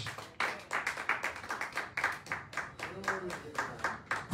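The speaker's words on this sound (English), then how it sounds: "Clap your hands for Jesus." A church congregation claps along during a Palm Sunday anniversary morning service, steady rhythmic handclaps at a brisk pace, fairly quiet, with voices and a sung tone rising beneath the clapping.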